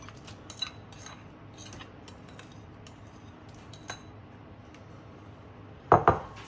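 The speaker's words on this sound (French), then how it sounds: "Je vais mettre les bananes sur la plaque." Plantain slices are set one by one onto a baking tray: a sparse run of light clicks and taps, then a sharper double clatter near the end, with no talk.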